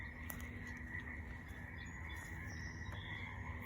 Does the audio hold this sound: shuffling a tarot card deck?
no